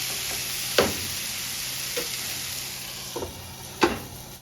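Chicken curry cooking in a pan, a steady low sizzle broken by four sharp scrapes and knocks of a spoon stirring, loudest around the start and end, with no voices.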